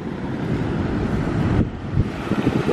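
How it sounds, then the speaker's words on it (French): Steady wind blowing against the microphone on a beach with waves, a dense low rumble with gusty fluctuations, no voices. "Je sais pas si vous allez m'entendre avec le vent"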